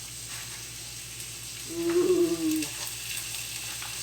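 Potatoes frying in butter on a grill give a steady, close sizzle. Midway through, a short voiced exclamation rises over it.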